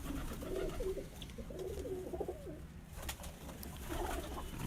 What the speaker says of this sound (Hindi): कंप्लीट कबूतर है जी, गोल्डन माशाल्लाह, बहुत अच्छा कबूतर है